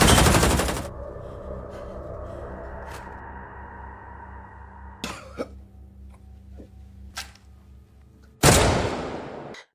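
Gunfire in a film scene set around a gun shop: a loud burst opens, then a quieter stretch with scattered sharp reports and clatter, and a second loud blast near the end.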